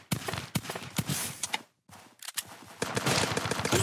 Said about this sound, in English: Got my pistol out. Pop, pop,